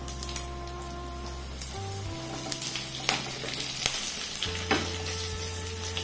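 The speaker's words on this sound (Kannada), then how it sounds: "ಇವಾಗ ಇಲ್ಲಿ ಸಾಸಿವೆ ಕೂಡ ಚಟಪಟ ಅಂತ ಹೇಳಿತ್ತು, ಉದ್ದಿನ ಬೇಳೆ ಕೂಡ ಚೆನ್ನಾಗಿ ಕೆಂಪಗಾಗಿದೆ" Mustard seeds and urad dal spluttering and sizzling in hot oil in a pan while tempering for a raw jackfruit dish, with scattered sharp pops over a steady fry, fairly quiet and close, alongside a low kitchen hum and no speech.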